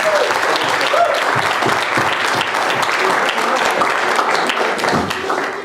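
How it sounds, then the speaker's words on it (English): An audience at a Christmas outreach event applauding steadily and loudly throughout, dense clapping with a few scattered voices mixed in. "We give a very good applause."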